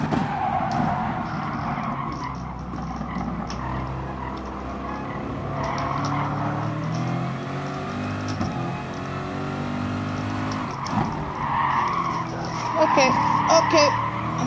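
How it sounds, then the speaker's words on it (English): Corvette tires skidding and squealing under oversteer at the Laguna Seca racetrack, a loud sustained screech over the straining engine roar, swelling and fading through the corner, with a voice talking over it. "That's a lot of oversteer."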